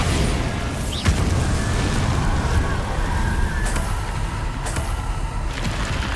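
The Bombarda explosion spell goes off in Hogwarts Legacy with a sharp blast near the start, inside a dense, continuous rumble of game effects and roaring noise that stays loud throughout.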